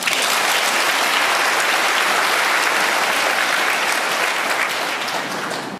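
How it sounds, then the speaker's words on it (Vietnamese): Loud, dense applause from a large audience at a Buddhist dharma talk, a sustained roar of many hands clapping without pause for several seconds before cutting off abruptly. "cho các bạn là một tràng vỗ tay"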